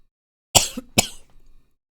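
Two sharp coughs in quick succession, close and loud, followed by a brief raspy breath, with silence around them.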